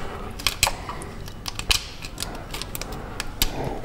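A pick spreads the small tabs of a brake line retainer clip on a Jeep Grand Cherokee, giving close, faint metallic clicks and scrapes in an irregular series with no talk.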